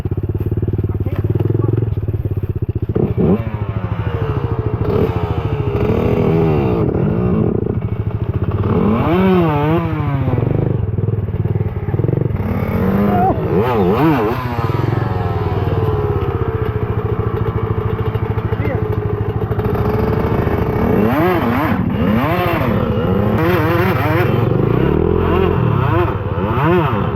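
A 110cc pit bike engine revs hard on a private dirt track, rising and falling through repeated throttle bursts with clattery, crackling exhaust, loud and close throughout.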